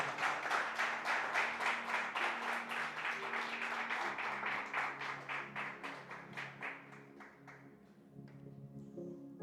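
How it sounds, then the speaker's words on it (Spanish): A church congregation gives God a loud round of applause during a Spanish-language Christian sermon, a dense steady clapping that fades slightly toward the end while music or a low tone sustains underneath. "Entonces dale un fuerte aplauso a nuestro Dios."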